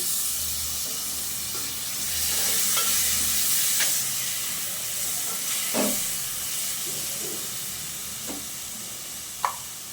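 Steady sizzling of food frying in a pan, with occasional scraping and light clinks from stirring; no voices.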